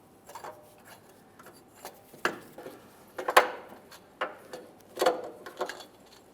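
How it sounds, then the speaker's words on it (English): Drive belt tensioner coming off the 2.4L engine of a Mitsubishi Lancer: close metallic clinks, scrapes and rubbing knocks at an irregular pace, with a few sharper taps of metal on metal and no voices. "Now we can remove that tensioner."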